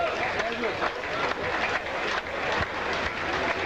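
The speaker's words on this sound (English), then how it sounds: "You can hear the applause." A cricket crowd applauds at Sri Lanka's first Test match, with steady clapping and crowd noise filling the air, continuous and fairly loud, with a faint babble of voices underneath.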